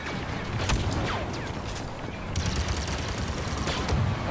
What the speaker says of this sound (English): Why are you shooting at our own droid?